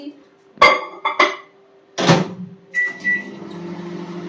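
Cabbage curry being reheated in a home kitchen microwave: a few sharp door and dish clunks, then a short electronic beep and the low hum of the running oven, close and clear.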